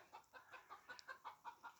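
A hen cackles in a quick run of about ten short, rhythmic clucks, faint and somewhat distant, with no voices around it.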